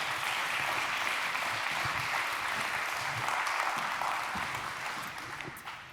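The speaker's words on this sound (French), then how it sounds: "de bien vouloir porter jusqu'à la scène par vos applaudissements Siam Belhadj, s'il vous plaît." Audience applause fills a stage hall at a workplace health and well-being event, a steady dense clapping that holds loud throughout and tapers slightly at the end, with faint talk beneath.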